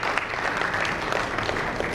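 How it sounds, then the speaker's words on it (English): Attendees at a banking panel discussion give a round of applause, a brief, steady patter of many hands clapping at moderate volume. "Can we have a huge round of applause for him?"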